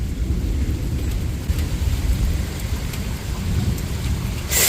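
Steady heavy rain hisses through a thunderstorm with a deep continuous rumble of thunder underneath, and a brighter burst of noise arrives right at the end.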